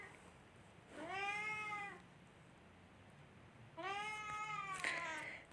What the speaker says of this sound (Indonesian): Memang kucing ini menggemaskan dan lucu ya